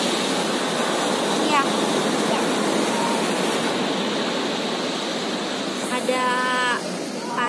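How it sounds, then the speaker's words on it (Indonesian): Ocean surf on a beach at Pelabuhan Ratu, West Java, a steady loud roar of breaking waves filling the whole scene, with voices briefly speaking over it. "Di pantai. Pantai di Pelabuhan Ratu bukan?"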